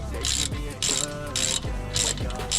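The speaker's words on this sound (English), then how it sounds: "So now we need to remove the caliper bracket, so grab a 19mm socket and your wrench." Ratchet wrench on a 19mm socket loosening a brake caliper bracket bolt on a Citroen C4 Picasso, a close, loud series of rapid clicking strokes in four quick bursts.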